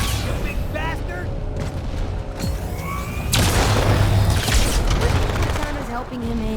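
Grenade explosions and gunfire in the Halo 2 Anniversary game on PC, a deep boom swelling into a loud rumbling blast after scattered mechanical clicks, with voices speaking over it.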